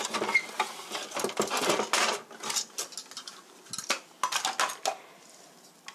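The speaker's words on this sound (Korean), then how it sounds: "당근은 채 썰기 힘드니까 채칼로 하겠습니다" Carrot being cut on a julienne slicer for japchae, giving a run of rapid, scratchy slicing strokes in irregular bursts with short pauses, close and moderately loud, with no talking.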